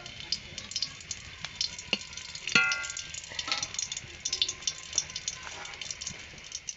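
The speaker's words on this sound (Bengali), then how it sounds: "মাছের ঝোল বানানোর জন্য কড়াতে দিয়ে দেবো সরিষার তেল। তেল গরম হয়ে গেছে, দিয়ে দিচ্ছি গোটা এলাচ" Whole cardamom sizzles in hot mustard oil in a kadai, giving a steady close crackle and spatter with light clinks and stirring sounds, no talk.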